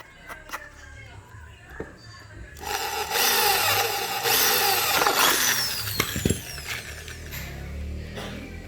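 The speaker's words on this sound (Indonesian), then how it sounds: "Tinggal bor saja kira-kira." A power drill whirs loudly as it bores into a plastic case for a 12-volt popcorn machine battery charger, with a sustained grinding run after quieter clicks and handling, and brief speech alongside.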